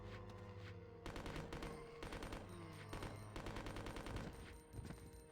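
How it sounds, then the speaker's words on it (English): Submachine gun fire in the video game Resident Evil Code Veronica X, repeated rapid bursts of shots with brief pauses between them over a droning background score. "we're going to take our SMGs for a spin"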